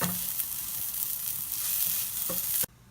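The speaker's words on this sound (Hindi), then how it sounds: "ग्रीन चिली, जो हरी मिर्चों को भी हम स्लाइटली ग्रीस किए हुए पैन में फ्राई कर देंगे" Green chilies stir-fry briefly in a lightly greased pan: a dense, close sizzle with a few stirring taps, cutting off abruptly near the end into near quiet.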